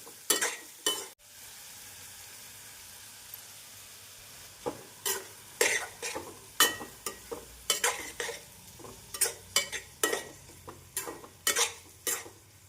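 Onions sauté over a medium flame for an onion pickle, with a steady soft sizzle punctuated by repeated sharp scrapes and clinks of a spoon stirring against the pan, close and clear without talk.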